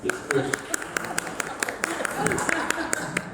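Audience applause at a county judge candidate forum, a steady patter of many hands clapping with sharp individual claps standing out, close and fairly loud, with voices mixed in.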